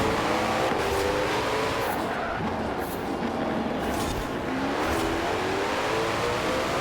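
Koenigsegg Jesko supercar engine in the racing game Forza Horizon 4, a steady loud continuous drone with rising and falling revs and gear changes throughout, close and prominent with no talking.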